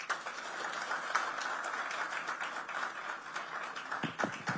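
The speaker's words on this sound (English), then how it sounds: "let's give him a very, very warm round of applause for this" An audience at a live televised political event in Madhya Pradesh applauds the former Chief Minister, with dense clapping held at a fairly even level throughout and sharper individual claps near the end.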